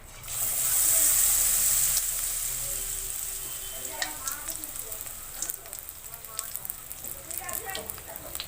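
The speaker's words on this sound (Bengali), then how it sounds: "দুটো ফুলি আমি একসাথে ভাজবো।" Rose-shaped gram-flour batter chops fry in hot oil, a loud burst of sizzling at first that settles into steady, crackling bubbling with small pops throughout.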